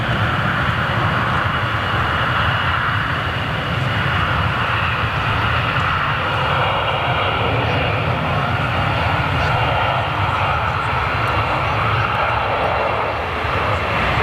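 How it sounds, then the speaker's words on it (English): A Ryanair Boeing 737 roars with heavy thrust reverser action on landing at Manchester International Airport, a loud, sustained jet rumble that holds steady throughout. "Heavy reverser action from the 737 Ryanair comes off of them."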